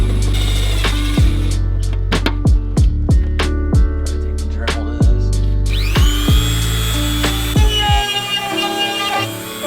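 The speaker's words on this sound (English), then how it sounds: "I want to go ahead and take my drill and get this one into the fender liner" A power drill whirs in a rapid series of short bursts, then runs in a longer continuous whine as a screw is driven into a Mazdaspeed3's fender liner, close and loud.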